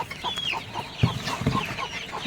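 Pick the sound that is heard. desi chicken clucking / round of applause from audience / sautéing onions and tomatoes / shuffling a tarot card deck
desi chicken clucking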